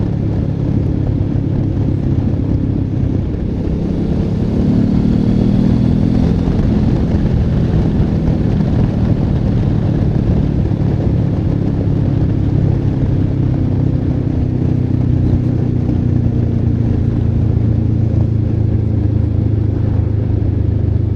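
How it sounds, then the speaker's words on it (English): A vehicle engine drones steadily with a loud, continuous low exhaust rumble and wind-like roar, its pitch shifting slowly as it runs for about twenty seconds without talk. "I also want this beautiful engine sound or exhaust sound also to be captured on the"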